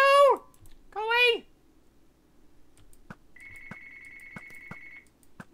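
A telephone rings during a Minecraft survival game, a repeated electronic ringtone of short pulses that plays steadily after a voice speaks loudly over it at first.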